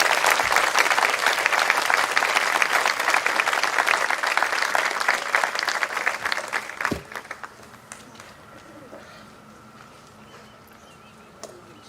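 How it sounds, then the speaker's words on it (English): A school audience at middle school closing exercises applauds loudly in a dense, sustained burst, which tapers off after about seven seconds and leaves a quiet hall. "give one more round of applause for all our performers and speakers"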